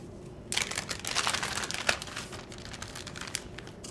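A plastic sandwich baggie crinkles and rustles in someone's hands during a classroom science setup, with a burst of crackling starting after a brief quiet pause and continuing unevenly at close range.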